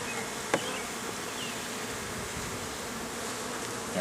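Honeybees drone in a dense, continuous buzz close by as Hive #1 is opened for inspection, with one faint click near the start.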